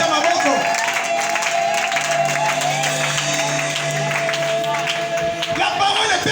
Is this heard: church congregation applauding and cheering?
yes